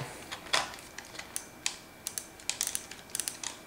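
Light plastic clicks and taps as a Saitek Cyborg F.L.Y.5 joystick part clicks into place, a dozen or so sharp ticks spread irregularly over a few seconds, close and fairly quiet with no talking.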